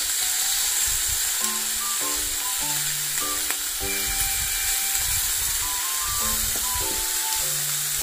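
Beef tongue sizzles on a Yokozawa iron griddle, a steady, bright crackling hiss that runs without a break, with a light plucked melody playing over it.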